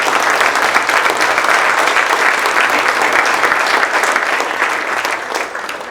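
An audience at a business forum gives a round of applause, dense steady clapping from many hands that holds strong and then fades slightly toward the end.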